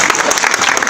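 An audience claps steadily and loudly, a dense wash of applause with no clear pauses from start to finish.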